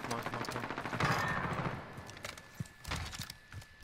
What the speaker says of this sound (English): I got a sentry gun.